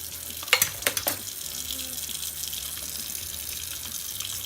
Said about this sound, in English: I'm going to fill up a bottle